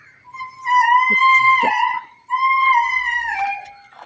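A dog howls in two long, wavering, tonal calls close by, each rising and sliding in pitch, separated by a brief pause.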